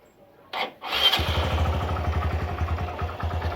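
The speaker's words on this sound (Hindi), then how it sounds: "बाइक ऑन किया" A custom motorcycle fitted with a devil headlamp starts after a brief clatter, then settles into a loud, steady, rapidly pulsing idle close by.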